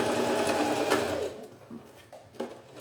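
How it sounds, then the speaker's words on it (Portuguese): A sewing machine fitted with a size 14 needle stitches a makeup bag, running in a close, steady whir that stops partway through, leaving a few soft clicks and handling noises. "que eu estou costurando, gente, eu costuro com a agulha número 14"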